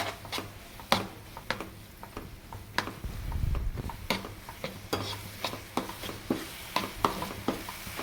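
Roasted eggplant mash (ringan no olo) being stirred with coriander: soft, repeated scrapes and taps in an uneven rhythm, close and fairly quiet, with a low rumble partway through and no talking.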